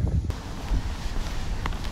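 Steady outdoor wind on a Donetsk embankment buffeting a microphone, a low rumbling roar with gusty swells throughout and faint rustling on top.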